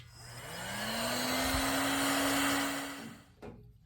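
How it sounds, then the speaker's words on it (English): A heat gun blows hot air to melt wax in a wax warmer bowl, a steady close whooshing roar with a rising whine as it spins up, then cutting off abruptly with a click near the end. "can use a heat gun, just like this one here, to melt the wax"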